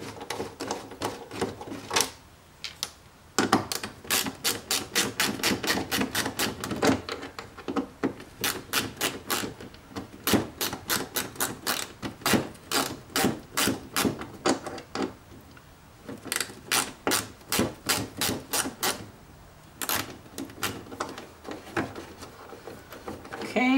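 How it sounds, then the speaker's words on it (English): A hand tool works screws out of ACS Composite front and rear rock guards, making sharp, rhythmic clicking strokes in quick bursts separated by short pauses. "so now we got the screws out"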